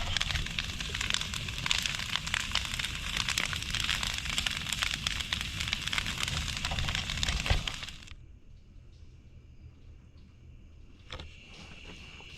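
An outdoor bonfire in the country burns with dense, steady crackling and popping for about eight seconds, then drops to a faint low hiss with a few sparse snaps near the end.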